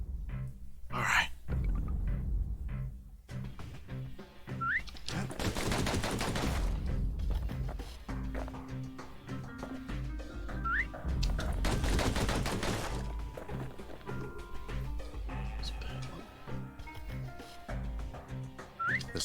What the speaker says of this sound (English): The slingers like to edge each other out using customized pistols.